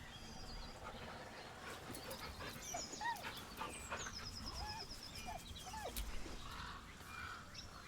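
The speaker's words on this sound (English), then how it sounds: "With a deep, heartbroken whine, the dog bows his head." A dog in Baldur's Gate 3 whining in grief: high, wavering whimpers and short yips come in soft repeated bursts over a dull rumbling ambient bed, moderately close and without speech.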